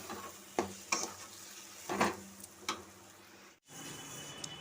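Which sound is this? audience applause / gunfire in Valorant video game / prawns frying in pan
prawns frying in pan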